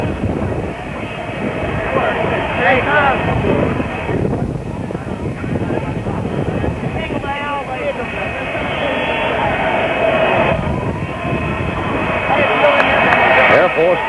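A big jet, Air Force One, comes in to land at Dallas in 1963, its engines a loud sustained whine and roar rising over wind noise, while a crowd calls out and a commentator talks over it.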